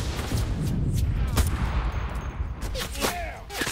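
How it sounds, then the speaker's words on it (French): Gunfire and bullets in the PS5 shooter Enlisted, a dense burst of shots and whizzing rounds, loud and continuous over a brief stretch with faint game noise behind. "Je sens des balles courir autour de moi."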